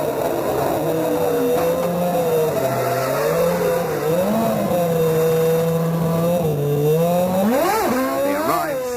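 Formula One race cars from the 1994 season, Schumacher and Hill among them, scream past loudly during pit stops, their high engine whine rising and falling in pitch with sharp upward sweeps near the end, under a commentator's voice.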